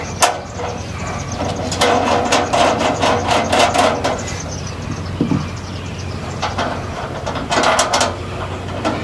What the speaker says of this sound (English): I'm just going to screw in our 4 legs